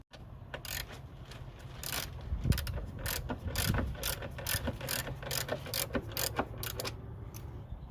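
A hand ratchet tightens the strut top mount bolts on a 2005 Toyota Prius, clicking in quick, irregular bursts at close range, with short pauses between strokes.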